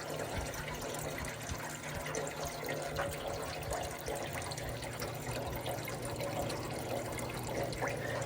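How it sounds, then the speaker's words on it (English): A water pump runs steadily while filling the tray of a homemade chicken incubator, a continuous low hum under a trickling, splashing flow of water, with no voices. "So I just turned that on. You can hear it. Pumping water."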